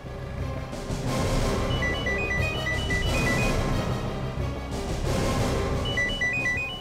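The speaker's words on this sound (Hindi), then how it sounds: "सर फोन की घंटी तो बज रही है मगर फोन कहीं दिख नहीं रहा है।" A telephone ringing somewhere out of sight during a hostage situation in a crime drama, with repeated short electronic ring tones in bursts over a loud, continuous background of music and noise.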